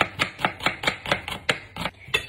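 A knife chops through white and red onion on a board in quick, evenly spaced strikes, about ten crisp, close thuds in a row with no talking.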